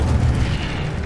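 An Incendio fire spell exploding in the Hogwarts Legacy video game: a loud, deep, rumbling blast that fills the whole moment and fades only slightly.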